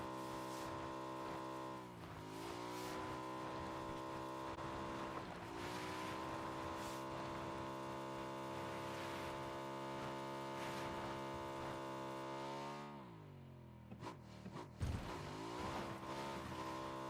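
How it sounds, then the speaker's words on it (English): A car engine in the video game PUBG drones steadily at a high pitch, dipping briefly as it shifts or revs around two and five seconds, then dropping away near the end of the stretch. "The car that I hear."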